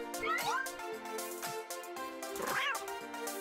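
A cartoon kitten in the Toca Boca mobile game gives two high, sliding meows, one early and one later, over steady background music.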